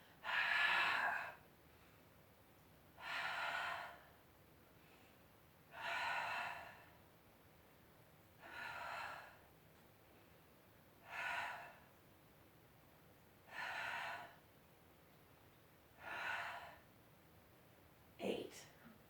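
Slow, regular breaths during chest curls, about eight strong airy exhales spaced roughly every two and a half seconds, close and clear, with quieter inhales between them.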